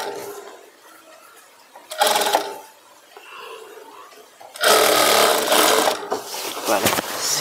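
A sewing machine stitches Patiala salwar fabric in two loud bursts, a short one and then a longer run, with quieter handling sounds in the gap between them.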